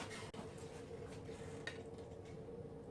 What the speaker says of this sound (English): So we're going to mix the yeast into the water.